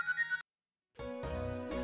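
A phone ringtone plays in a short tonal burst, falls silent for a moment, then resumes as a fuller, melodic chime.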